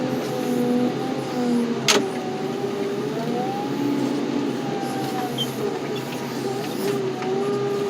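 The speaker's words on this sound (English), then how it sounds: "he's just gonna squish this down a little bit more for me" A machine crushes a VW Bug car with a steady, loud grinding and creaking, plus a high tonal squeal that rises and falls throughout, two sharp cracks punctuating it and no talking.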